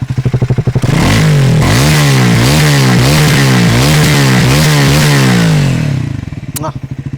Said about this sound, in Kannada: ಒಂದ್ಸಲ ಈ ಗಾಡಿದು ಎಕ್ಸಾಸ್ಟ್ ನೋಟ್ ಕೇಳಿಸ್ತೀನಿ ಒಳ್ಳೆ ಬಾಸಿಯಾಗಿದೆ ಸೌಂಡು